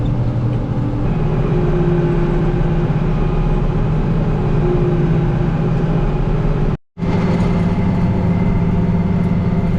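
A tractor engine runs steadily and loudly close by while trimming along a roadside, a constant droning rumble with one brief dropout near the end.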